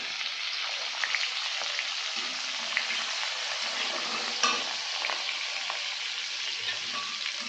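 Chopped onions fry in hot oil with bay leaf, dried red chilli and cardamom for a Bengali chicken kosa, giving a steady, dense sizzle with occasional light clicks of stirring.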